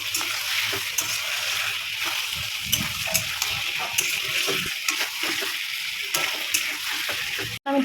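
Ginger-garlic paste frying in a pan, a dense continuous sizzle close by with intermittent stirring scrapes and clicks, ending in a sudden brief cutoff.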